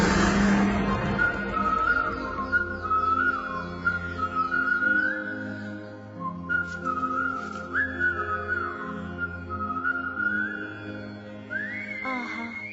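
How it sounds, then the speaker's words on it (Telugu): A man whistles a melodic tune solo, clear sustained notes sliding between pitches over a soft instrumental background, steady and close for the whole stretch. "అతగాని ఈలా గానము విన్న కొద్దీ వినాలనిపించుచున్నది ప్రభు"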